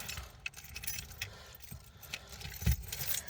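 Metallic keys jingle and clink in a few brief bursts, close by, over a low background rumble with one louder jangle near the end.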